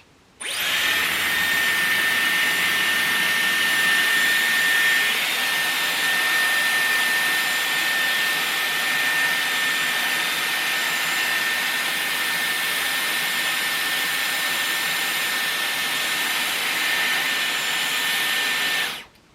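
A Dyson Airwrap hair styler blows with a loud, steady high-pitched whine for nearly twenty seconds, switching on at the start and off at the end.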